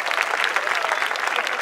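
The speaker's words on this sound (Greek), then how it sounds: "Θέλω να μου δώσετε ένα χειροκρότημα." Audience applause at a live comedy show, a dense, even burst of clapping from a crowd, loud and close, lasting throughout.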